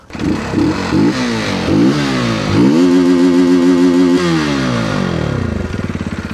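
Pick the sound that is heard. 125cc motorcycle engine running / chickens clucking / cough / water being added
125cc motorcycle engine running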